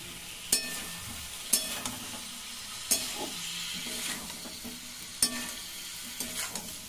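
Cauliflower curry sizzles in a pan after water is poured in, a soft continuous hiss broken by sharp, regularly spaced taps of a spoon against the pan as it is stirred.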